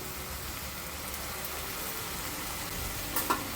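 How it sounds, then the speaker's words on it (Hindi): Curry leaves hit hot oil while making sprouted moong sabzi, giving a steady, soft hiss of sizzling with a few sharp pops near the end and no talking. "कड़ी पत्ता ऐड करते हैं वैसे तेल ऊपर आता है, मतलब कि उड़ता है"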